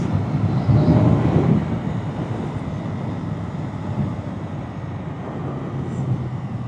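A CFMoto 450SR with a 450 cc engine rides through city streets at night, giving a steady broadband engine and wind roar that swells loudest in the first seconds, then holds an even, continuous drone.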